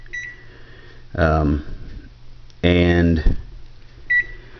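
Beeps from a kitchen timer set to 180 minutes for making jerky. A few short, bright electronic tones come between two bursts of close male speech.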